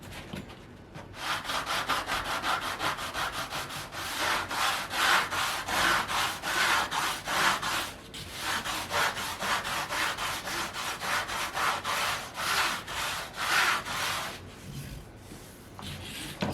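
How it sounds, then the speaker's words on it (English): A soft sanding pad rubs along the sides of guitar frets in a fast, steady back-and-forth scrubbing rhythm. The sound is close and continuous, with a brief pause partway through. "real soft sanding pad and I like to hit the sides of the frets with it"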